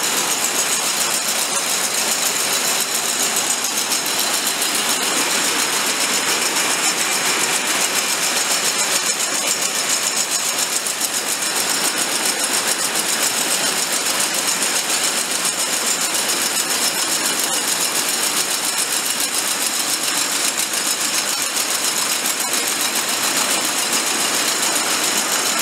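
Yarn spinning machine winding 100% wool onto a spool, a steady, continuous mechanical whir and hum that stays loud and even throughout with no breaks.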